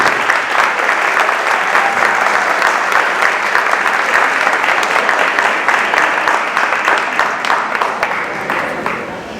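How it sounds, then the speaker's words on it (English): Audience at a speech in Santa Rosa giving a sustained round of applause for a visiting speaker; thick, even clapping from a large crowd continues for about nine seconds, tapering slightly at the end. "Could you guys help me with a big round of applause for my friend Clarence?"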